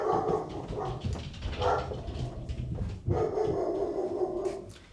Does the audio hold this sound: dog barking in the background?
yes